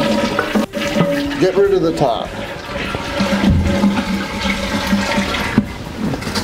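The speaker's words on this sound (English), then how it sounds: "Flush the toilet." Toilet flushes as its tank is drained for a tank-to-bowl gasket installation, a loud rushing, gurgling swirl of water that carries on steadily to the end, with someone briefly speaking over it near the start.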